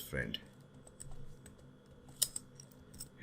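Keys clacking on a computer keyboard as an email is typed, a few scattered quiet clicks with faint background talk, close and soft.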